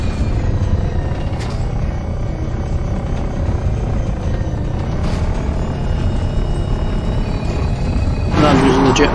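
In Elite Dangerous, an SRV planetary rover fires its jet thrusters to hop over blocks on a low-gravity planet, giving a loud continuous roaring rumble that surges brighter near the end, with no talk over it.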